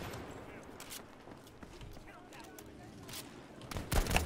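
Gunfire from a video game comes in scattered bursts of shots beneath ongoing talk, and the shots grow louder and denser toward the end.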